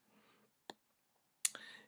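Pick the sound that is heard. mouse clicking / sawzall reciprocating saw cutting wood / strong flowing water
mouse clicking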